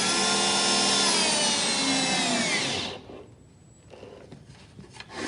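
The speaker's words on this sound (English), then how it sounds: "Put the last screw in." A power drill drives screws into a wooden bench, a loud steady whirring with rising pitch that cuts off abruptly near the middle, followed by quieter handling noises.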